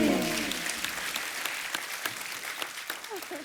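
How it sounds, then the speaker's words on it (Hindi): Studio audience applause on the TV comedy program The Kapil Sharma Show: moderately loud clapping that slowly fades over a few seconds, with a voice heard at the very start. "जोरदार तालियां होनी चाहिए"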